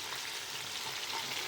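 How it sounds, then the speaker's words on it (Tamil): Onions, tomato and green chili sauté in a pan for chicken biryani, giving a faint, steady sizzle that hisses quietly throughout. "இதெல்லாம் கொஞ்சம் வதங்கட்டும்."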